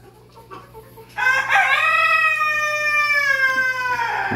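A rooster in an orchard lets out one long, loud, close crow that starts after a quiet moment and holds for several seconds with no talking.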